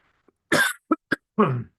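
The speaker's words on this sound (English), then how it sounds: "I have to cough again" A burst of coughing: one longer cough, two short sharp ones, then another longer harsh cough, close and clear with no talking.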